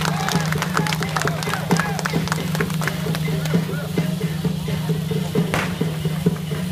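A crowd claps and cheers at a Mazu goddess temple procession in Zhubei, with steady applause and sharp hand-claps over a dense murmur of voices that continues throughout.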